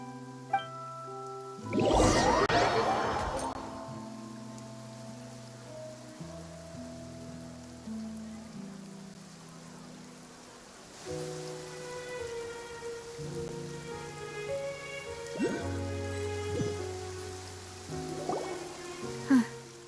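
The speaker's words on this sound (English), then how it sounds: "It's been raining non-stop for a few days now." Rain pours non-stop in the video game Genshin Impact, a soft, continuous patter of drops under game music, with characters briefly speaking over it.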